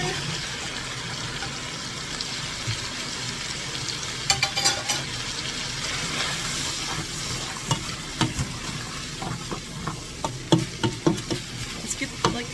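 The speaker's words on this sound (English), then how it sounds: "I diced my onions, they're going in." Diced onions frying with browned hamburger meat for a casserole, a dense continuous sizzle close to the pan, joined in the second half by quick scraping stirs and clicks of a utensil.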